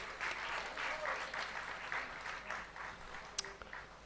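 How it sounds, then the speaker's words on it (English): An audience claps for visiting guests at an anniversary celebration in Mayapur, a steady wash of applause lasting several seconds, with one sharp bump near the end. "So please give them a big round of applause again."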